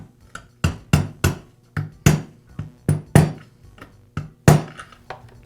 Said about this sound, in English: tap it in place with a mallet